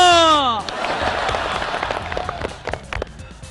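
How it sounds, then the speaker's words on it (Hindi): Audience applause at a political speech, a burst of crowd clapping following a short tone, steady and moderately loud. "तालियां।"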